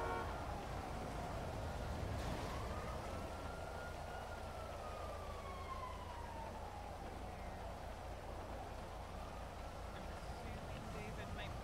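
A wailing ambulance siren in a video game rises and falls over a steady low engine-like drone, sweeping in from a distance and growing more present, with voices talking over it throughout.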